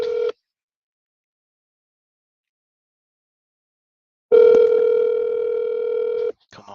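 Ringback tone on an outgoing phone call: one brief ring is cut off, then after a few seconds of silence comes a longer, steady ring, clear and close.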